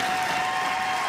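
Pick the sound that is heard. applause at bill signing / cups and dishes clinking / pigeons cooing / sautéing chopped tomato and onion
applause at bill signing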